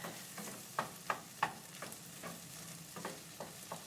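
Pork fried rice with ground black pepper is stirred in a frying pan, a soft continuous sizzle broken by about ten rhythmic spatula scrapes and taps, close and moderately quiet, with no talking.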